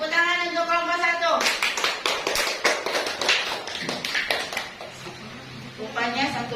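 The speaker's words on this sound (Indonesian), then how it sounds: "Oke, tepuk tangan untuk kelompok 1." A classroom of students claps for group 1 after a presentation, a brief burst of quick clapping following a short spoken line, with a voice resuming as it fades.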